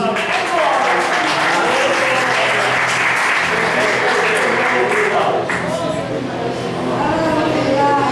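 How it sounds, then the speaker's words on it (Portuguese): A church congregation at an Assembly of God service claps for Jesus, a dense, steady round of applause filling the room with voices mixed into it throughout. "Palmas para Jesus"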